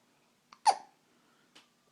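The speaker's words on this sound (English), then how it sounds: "Now we have the hiccups." A baby who has just been fed lets out a single sharp hiccup, bracketed by a tiny breathy sound before and a faint one after, in an otherwise quiet room.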